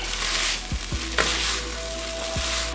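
Lo mein noodles with broccoli florets sizzle steadily in a hot pan, a constant close frying hiss with a few soft utensil scrapes and stirring knocks.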